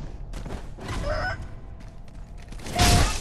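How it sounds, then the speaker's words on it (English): A chicken in Sekiro: Shadows Die Twice gives a few short clucking calls over a busy game soundscape, with a louder burst of noise near the end and no talking. "Why is this chicken aggroed, bro?"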